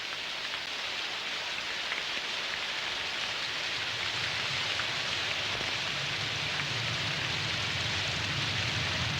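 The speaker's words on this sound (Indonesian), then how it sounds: "Hujan-hujan begini." Steady rain falls in Indonesia in a 1984 Teguh Karya film scene, a constant hiss of close rainfall with a low rumbling wash beneath it, heard alone and without any voices throughout.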